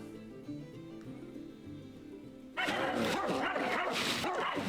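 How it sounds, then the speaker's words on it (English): Dogs bark in the Appalachian national forest, a burst of loud, overlapping barks and yips that starts suddenly halfway through after a quieter stretch of low background sound. "Those dogs."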